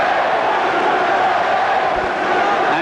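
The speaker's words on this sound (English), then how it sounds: "The crowd coming alive now." Crowd at an amateur boxing bout at the Pan American Games in Indianapolis, a sustained loud roar of cheering and shouting that fills the whole moment without breaks.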